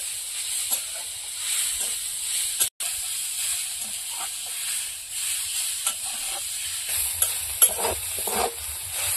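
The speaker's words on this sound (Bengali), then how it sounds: "পেঁয়াজ লঙ্কাটা ভালো করে ভেজে নিয়েছি।" Soft, steady sizzling hiss of onion and green chili frying in a pan, with occasional faint clinks and stirring scrapes.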